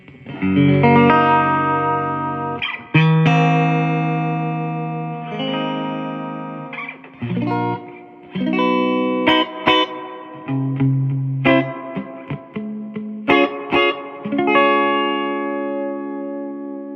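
Electric guitar, a Strat, played through a restored 1967 Fender Princeton Reverb amp: clean chords and single-note phrases with ringing sustain and short gaps between phrases, up close with no talking.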